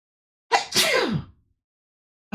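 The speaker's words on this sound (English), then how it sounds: "I think I have to sneeze." A single loud sneeze bursts out close to the microphone, a sharp intake followed by an explosive release, then silence until a faint sound at the very end.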